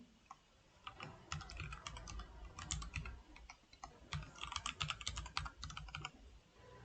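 An email address is typed on a computer keyboard as a steady patter of light key clicks in uneven bursts, close and fairly quiet, with no talking.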